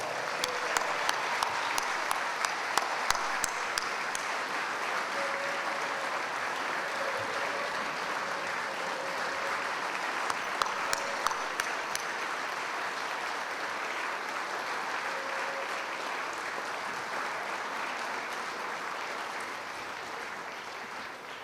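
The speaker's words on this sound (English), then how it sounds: "Let's give them one more round of applause" An audience gives sustained applause for veteran and civilian inductees at a Veterans Hall of Fame induction ceremony, a steady wash of many hands clapping in a large hall, with a few sharper claps near the start.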